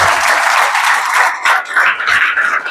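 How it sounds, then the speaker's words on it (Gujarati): A church congregation claps in praise during a pastor's sermon, a loud, close, continuous wash of hands clapping together, briefly dipping and then surging again, with no clear talk. "તાળી પાડી પરમેશ્વરનો ધન્યવાદ"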